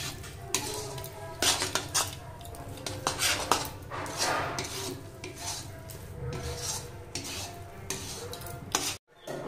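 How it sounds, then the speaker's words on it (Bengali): Motichoor laddu mixture being stirred with ghee in a pan on low heat: steady scraping and rasping of a spatula against metal, with clinks and rubbing strokes in an uneven rhythm, close and fairly loud, no talking. "ঘি দিয়ে আবারও আমি এইভাবে নেড়ে নেবো।"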